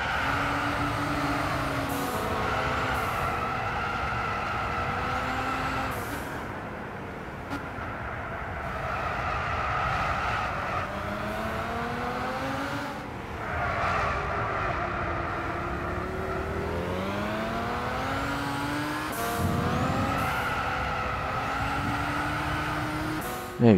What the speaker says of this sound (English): 730 horsepower, 6-liter twin-turbocharged AMG-V12, and it just tail spins, and the wheel spin is just immense